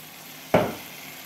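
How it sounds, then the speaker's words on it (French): Onions and mushrooms drop into a hot pan and are stirred, giving one sudden sizzling burst that fades quickly into a soft hiss. "je vais rajouter maintenant les oignons et les champignons et on va tout mélanger"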